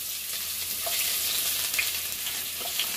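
Sliced onions drop into hot oil in a kadai for soya chunks masala, giving a steady, close sizzling hiss with faint crackles and no voices.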